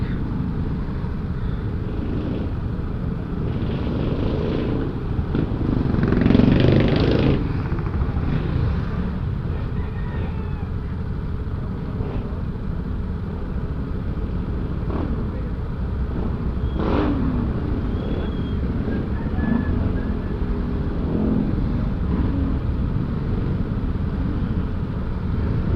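Road traffic heard from a motorcycle on a commute to work, a steady dense rumble of engines and tyres with a few brief louder swells of nearby vehicles passing.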